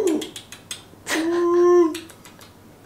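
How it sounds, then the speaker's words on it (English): A black cockatoo gives a drawn-out wailing call outdoors, one prominent cry midway with a few shorter sounds around it, fairly close and clear. "Oh, that is like the black cockatoo."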